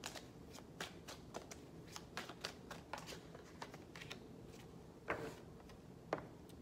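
A deck of tarot cards is shuffled close up, giving quiet, crisp riffling clicks and snaps in a steady rhythm with a couple of sharper taps near the end.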